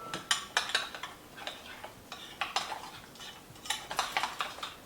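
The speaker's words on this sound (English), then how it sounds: "Now I'm gonna mix my ingredient seasoning" Spoon scraping and clinking in a bowl while seasoning is mixed into oil, repeated close stirring taps and scrapes in a steady rhythm, no talk.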